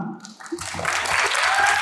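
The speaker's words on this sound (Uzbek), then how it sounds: "Otabek Mirmuhsin, olqishlar sizlarga." An audience at an animation camp breaks into applause, a dense, rising burst of clapping that swells over about two seconds, with faint voices mixed in.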